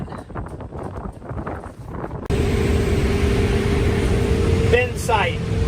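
Strong wind on a windy Nebraska day during harvest, a broad loud roar buffeting the microphone, with rumbling gusts first and a steady rushing blast after, a brief squeal near the end.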